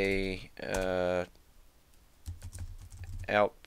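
Quick computer-keyboard typing clicks while writing code, heard between stretches of someone talking.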